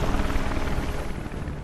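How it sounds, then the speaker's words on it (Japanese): An AVALANCHE helicopter in the video game Final Fantasy VII Remake gives a steady, loud rotor roar that fills the whole short stretch without a break. "アバランチのヘリ"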